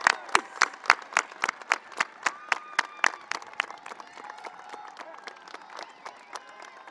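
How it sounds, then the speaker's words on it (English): Audience at a 2022 high school graduation ceremony applauds the parents with a steady run of sharp, separate claps that gradually soften and thin out, fairly faint and distant. "Graduates, please join me in applauding for the parents."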